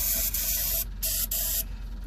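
Short bursts of spray hiss close by as something is sprayed into an engine, three or four quick blasts with brief gaps, over a low background rumble.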